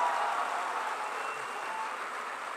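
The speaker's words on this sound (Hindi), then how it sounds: "बहुत एक बार मुझे ताली बजाकर मन दीजिए" Audience at a poetry recital at IIT BHU in Varanasi clapping together, a steady, moderately loud wash of applause that slowly tapers over a couple of seconds.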